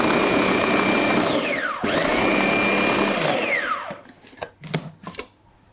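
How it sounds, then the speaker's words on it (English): A food processor pulsing flour and butter: two loud whirring bursts with the motor pitch rising and falling as it spins up and winds down, then a few short knocks and clatters. "Just give that a little bit of a pulse."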